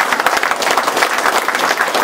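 Lively audience applause at a Swedish folk music gathering, many hands clapping fast and loud, a few claps standing out near the front, steady throughout.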